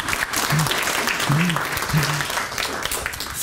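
An audience claps steadily throughout, a dense wash of applause in a room, with a voice briefly speaking over it.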